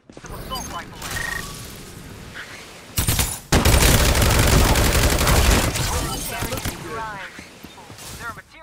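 Rapid automatic gunfire in the video game Farlight 84 bursts in dense volleys after sparse shots and game sounds, loud and close, with voices talking over parts of it.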